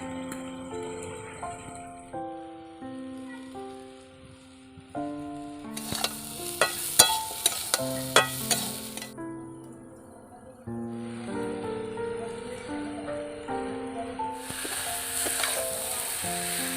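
Ground spices for a sweet-sour amla pickle are stirred in a hot pan, with a steady sizzle, scraping and clinks of the spoon near and loud. Soft music-like tones run underneath.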